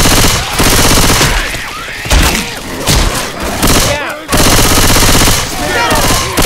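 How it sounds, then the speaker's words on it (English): Rapid automatic gunfire and heavy thuds fill a chaotic S.T.A.L.K.E.R. 2 firefight, loud and dense in bursts with short gaps, while shouting voices break in over the shooting. "Stop shooting me!"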